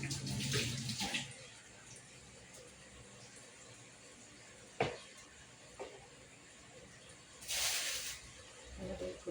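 Kamias fruit rinsed under a running tap, with brief bursts of splashing water near the start and again later, separated by quieter stretches with faint drips and handling noises.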